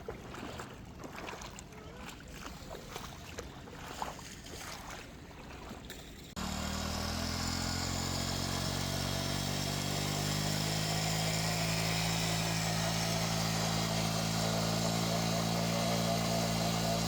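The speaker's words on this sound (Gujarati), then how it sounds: "થોડી લીધા બાઇક ને હવે જાય છે આપણા ઘર બાજુ પાછા" A Hero Splendor motorcycle is ridden, its engine droning steadily and loudly with a constant pitch after several seconds of quieter, muffled talk and background noise.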